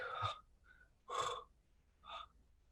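Breaths in a quiet film soundtrack: three separate airy inhalations spaced about a second apart, soft and close, with near silence between them.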